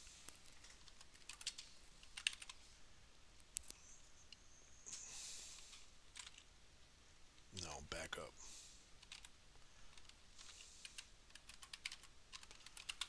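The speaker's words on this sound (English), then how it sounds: "I'm typing real slow." Slow typing on a computer keyboard in a quiet room, with scattered soft key clicks throughout, occasionally under a person's brief speech.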